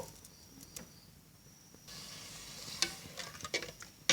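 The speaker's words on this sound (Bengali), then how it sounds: "এবার দুই কাপ পরিমাণ নারকেল কুড়ানো দিয়ে দিব" Grated coconut tipped into a pan of date-palm jaggery mixture and stirred, a faint low hiss swelling into brighter scraping with a few sharp clinks, quiet and close, no talk.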